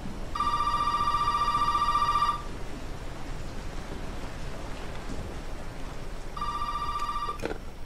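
A telephone rings in Resident Evil 7 on PS4: a loud, sustained electronic ring of about two seconds, then a pause over steady rain-like background noise, then a second ring starts near the end.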